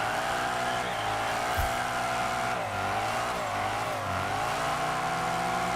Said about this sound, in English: Why does the Alfa Mito sound so beefy in this game?